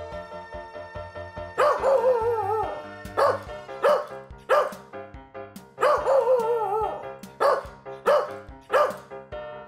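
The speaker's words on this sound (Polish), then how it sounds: "Pies nadal głośno ujada na swojego właściciela i nie daje mu uciec." A dog barks loudly and repeatedly in sharp, irregular bursts, some drawn into whiny yelps, with a steady tonal hum underneath.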